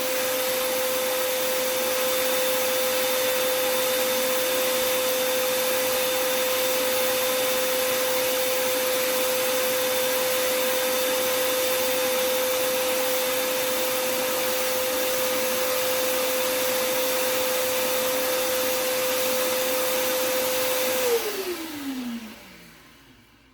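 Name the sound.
record cleaning machine vacuum suction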